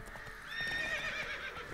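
A horse neighs in The Witcher 3 video game, a clear rising whinny with clip-clopping hooves underneath, fairly faint overall and heard alone.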